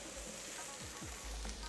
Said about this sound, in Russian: А затем кладем лук, чтобы он получился поджаристым.